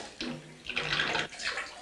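Bathtub water draining out after the plug is pulled, a continuous rushing, gurgling wash that swells and dips over a couple of seconds, close and fairly loud with no talk.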